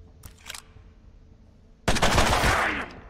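Burst of automatic gunfire from a weapon in the turn-based game Mutant Year Zero: Road to Eden. A loud, dense, rattling volley follows a short quiet lead-in with a faint clatter.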